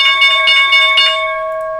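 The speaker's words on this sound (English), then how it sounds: "And there's the bell." A bell rings out loud and close at a live stock-trading session's market open, several rapid strikes that leave a sustained tone slowly decaying toward the end.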